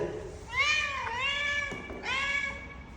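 Mother cat that gave birth in a shop meows in close, loud, drawn-out cries, two long calls with a brief pause between, clear over faint room noise.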